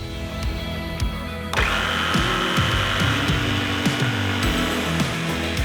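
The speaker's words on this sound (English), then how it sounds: "the best tool for cutting a curve is a jigsaw" A jigsaw cuts a curved line through a wooden bed head panel, starting partway in as a loud, steady, close-up buzzing rasp that continues to the end, with no talking.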